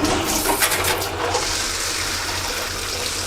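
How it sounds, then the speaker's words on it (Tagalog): Strong, steady rush of hot water pouring from a tap in a home, loud and continuous with a bright hiss throughout and faint background noise. "Lakas ng tubig."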